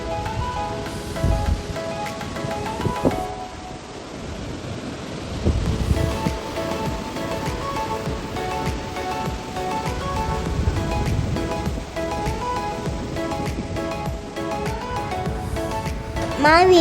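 Ocean surf washing onto a beach, a steady broadband wash running beneath prominent background music throughout.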